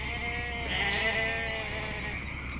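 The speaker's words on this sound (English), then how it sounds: "Look at all these friggin' goats." A herd of many goats bleats together in a video game, the overlapping cries steady and fairly loud throughout, with no talking over them.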